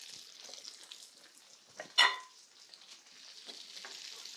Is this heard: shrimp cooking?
yes